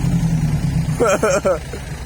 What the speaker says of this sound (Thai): รถไถมาแรงเนี่ยดันไม่ไปนะนี่